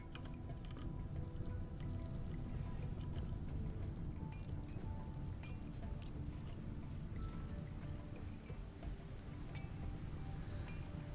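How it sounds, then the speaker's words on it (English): Steady rain in the RimWorld colony game, a continuous dense patter of drops with faint dripping, even and unbroken throughout, no voices. "Okay, and it started to rain."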